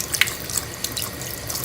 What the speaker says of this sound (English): let me go ahead and turn on the water